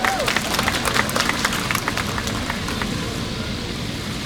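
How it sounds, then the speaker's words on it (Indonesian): Audience at the opening of a youth Easter festival applauding the Vice President, a dense wash of clapping that is loud at first and then gradually thins out. "Tepuk tangan dulu buat Pak Wapres."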